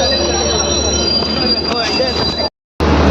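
A train at a station rumbles close by while its wheels give off a sustained high-pitched squeal, loud throughout apart from a brief cut to silence near the end.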